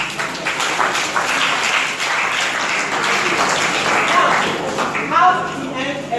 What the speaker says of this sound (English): So we clap for them.